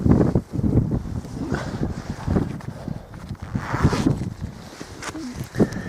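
Outdoor wind buffets the microphone in gusty, rumbling bursts on a hillside above the Afon Conwy valley in Wales, loud and continuous throughout with no clear voice over it.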